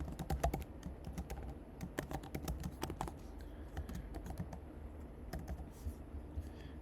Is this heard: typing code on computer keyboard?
yes